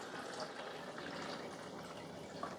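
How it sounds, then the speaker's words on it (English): Straight vinegar pours into the water reservoir of a Mr. Coffee stainless steel 10-cup programmable coffee maker, a steady soft splashing trickle running continuously at low volume. "we're going to fill it up to the 6 cup mark with straight vinegar"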